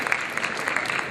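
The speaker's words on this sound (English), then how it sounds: "why don't we give them a standing ovation and one more round of applause for the show here" Audience applause at a comedy show in Dallas after the performance, a dense continuous wash of clapping from a crowd, heard alone for about a second.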